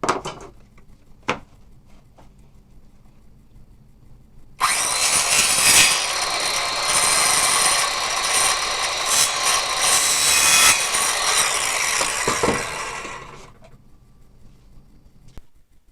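A wooden gusset has its corners cut back with a power saw, a steady loud rasping burst of several seconds following a quiet start with a couple of faint knocks, then stopping.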